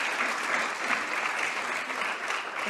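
Steady applause from many people fills a European Parliament environment committee session, a dense, even wash of clapping that runs unbroken from start to finish with no voices over it.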